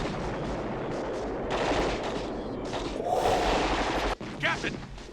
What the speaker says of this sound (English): Oh my goodness, the explosion!